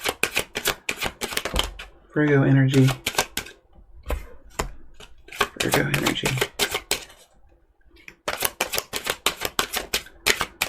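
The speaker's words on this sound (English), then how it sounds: "So I'll just be quiet now and shuffle" Tarot cards being shuffled by hand, a quick run of crisp papery riffles and taps near the start and end, with someone talking briefly in the middle.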